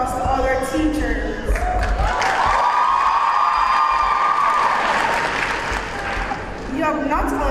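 Audience applause for teachers at a high school graduation ceremony, a loud sustained wash of clapping and cheering from a large crowd filling the whole stretch, easing slightly near the end.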